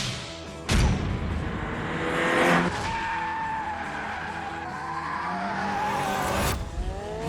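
A Ford Sierra RS Cosworth drifts in The Grand Tour Game, its tyres squealing loudly and steadily over a revving engine, with sharp bursts as the slide begins and again near the end.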